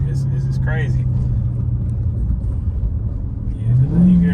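A widebody Dodge Charger Hellcat in sport mode accelerates with a deep, steady engine drone inside the cabin, rising in pitch near the end, while someone talks over it.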